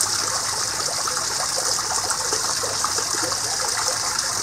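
A garden waterfall in a Wisconsin garden in early June runs steadily, with a constant broadband rush and splash of falling water throughout. It sounds close and fairly loud, with no talking.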